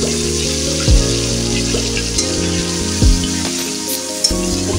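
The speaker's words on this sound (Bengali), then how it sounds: "ঝালটা আমি এইভাবে একটু ভেজে নেবো।" Spicy chilli paste for ghugni fries in a pan with a continuous soft sizzle and crackle, while a low humming tone with gliding shifts runs underneath and no one speaks.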